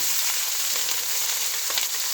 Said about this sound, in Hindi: Okay, we're adding the onions in now.